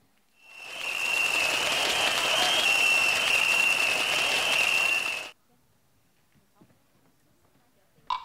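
An audience at a Teochew opera spring festival gala in a village applauds performers, a dense burst of clapping swelling for about five seconds before cutting to near silence.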